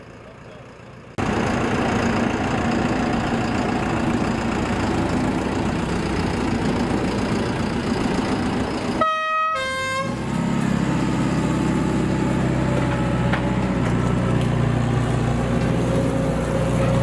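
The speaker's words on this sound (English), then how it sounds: "Let's see if we can follow the tractor taking the lifeboat down to the sea." A heavy tractor engine rumbles steadily at idle while towing a lifeboat down to the sea in Blackpool, with a brief two-tone horn blast partway through.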